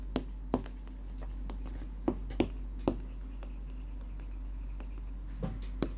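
Maths working written out for a Class 5 Vedic mathematics lesson, with sharp scratchy strokes and taps in irregular bursts over a steady low hum in a quiet room.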